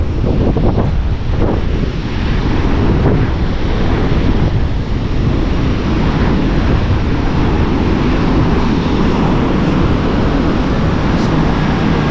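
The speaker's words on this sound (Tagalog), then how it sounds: "So, malakas sa hangin." A strong, steady wind roars across the microphone while heavy surf rumbles and washes continuously, loud and unbroken throughout.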